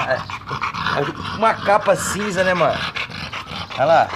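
A dog pants rapidly and breathily nearby while people talk over it.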